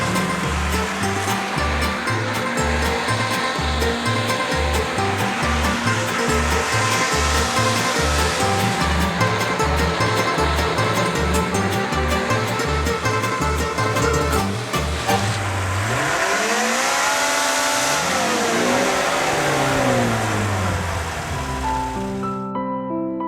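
A Subaru engine revs up in a garage, a loud, steady drone with rising and falling pitch sweeps toward the end, alone without talk.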